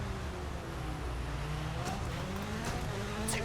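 Rally car engine in the EA WRC racing game on a mountain stage, a steady low drone that holds loud and continuous throughout, with shifting engine tones and a brief high squeal near the end.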